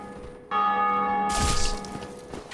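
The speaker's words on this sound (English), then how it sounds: "Someone just rung the bell of awakening." In the video game Dark Souls Remastered, the Bell of Awakening rings out with a loud, sustained metallic toll that swells with a crashing burst midway and then slowly decays, with no speech over it.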